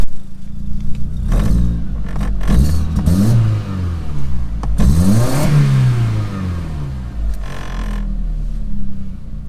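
A stolen Audi S3 idling rough and misfiring, with repeated revs that rise and fall, a lumpy uneven engine note close by and several sharp blips.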